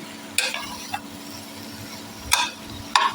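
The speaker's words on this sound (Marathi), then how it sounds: "मी अशी शिजत ठेवणार आहे मंद आचेवर" Katwel wild vegetable bhaji cooking in a pan on a low flame, with a soft steady sizzle beneath a few sharp close spatula scrapes and clinks against the pan.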